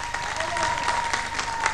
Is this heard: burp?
no